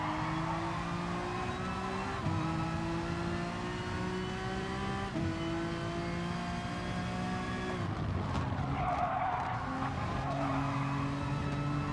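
A Honda NSX race car in the GT Sport game holds a loud, continuous engine drone with gear-change steps and a burst of tire skidding near the end, close and steady, no voices.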